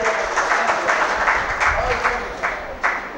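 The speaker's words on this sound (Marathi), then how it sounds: "जरा टाळ्या वाजून आपण त्यांचं स्वागत करूयात" An indoor audience at a Rotary Club event in Manchar claps to welcome a speaker for a discussion on women's leadership. The applause is steady and moderately loud, with a few sharper claps standing out.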